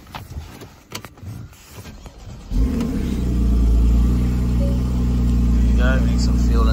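A 2014 Porsche Cayman 981 with the 2.9 engine cranks and fires after a few clicks, then settles into a loud, steady, close idle with a slight rise in revs that holds to the end.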